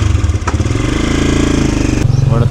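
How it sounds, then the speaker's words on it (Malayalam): A Hogan motorcycle in Luxor, Egypt, heard up close with a loud, steady, pulsing engine throb as the bike rides along, with a brief shift in pitch partway through and no talking. "എൻ്റെ ബൈക്കാണ്."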